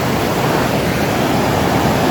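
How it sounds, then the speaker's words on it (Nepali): The Seti river in Pokhara rushes along in a loud, broadband wash. The flow stays constant and close, with no talking. "यो चाहिँ पोखराको सेती नदी है"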